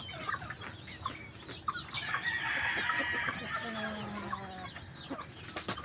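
A rooster crows once in a long drawn-out call amid scattered hen clucks and light farmyard noise, fairly close by, in rural Bohol.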